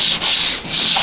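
Sandpaper rubs over body putty on a 2000 Chevrolet Suburban in steady, close, abrasive strokes, with two brief dips between passes and no talking.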